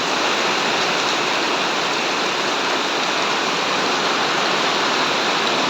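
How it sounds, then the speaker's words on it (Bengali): Dense, unbroken hiss of heavy morning rain pouring down around houses, with water everywhere; steady and loud throughout with no voices or pauses. "পুরা বৃষ্টি পড়ে আছে পুরা।"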